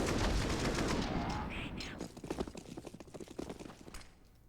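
Rifle fire in CS:GO on Mirage: a loud burst opening over dense game noise, then a rapid, uneven run of sharp cracks and clicks that fades toward the end, with no talk.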